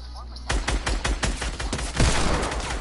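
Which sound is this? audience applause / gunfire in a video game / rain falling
gunfire in a video game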